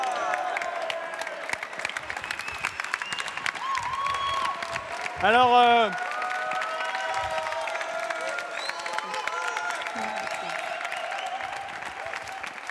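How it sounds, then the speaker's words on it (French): Audience applauding at a tech conference keynote opening, a steady bed of clapping throughout with a brief louder burst in the middle, while someone speaks over it. "Ah, on l'applaudit!"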